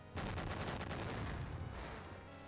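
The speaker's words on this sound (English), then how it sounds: "Those are hyper bombs." Hyper bombs detonate in the Beyond Oasis game on the Genesis, a heavy burst of rumbling, crackling explosions that starts suddenly and fades slowly, with no talking.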